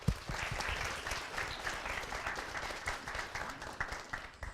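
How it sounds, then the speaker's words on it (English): An audience at an alumni panel session applauds the panelists, steady sustained clapping from many hands filling the room for several seconds, with no speech over it. "We can get a round of applause again for them."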